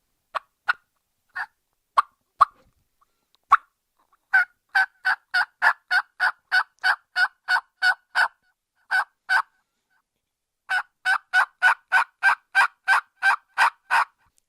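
Turkey call with a cutter style reed, giving sharp high-pitched yelps that drop into a raspy back end, first a few scattered notes, then two fast runs of about a dozen clucking yelps, close and clear with no talking.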